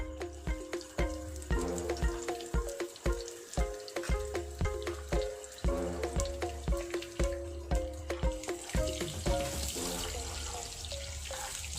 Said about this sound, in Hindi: उसके बाद इसमें हम ऑनियन स्लाइस डाल रहा हूँ